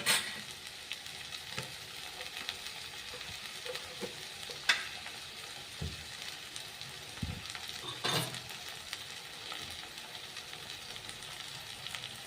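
Tomato and chili frying in a pan, a constant hissing sizzle with occasional sharp clicks and spoon scrapes, close and fairly quiet.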